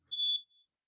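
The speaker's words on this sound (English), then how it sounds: "My fire alarm's going crazy today." A home fire alarm gives a single short, high-pitched chirp, then a fainter trailing tone, heard alone in an otherwise quiet room.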